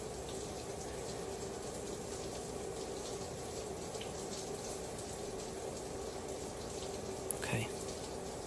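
Shower water runs steadily, a constant moderate hiss with faint splashing, and no talking over it.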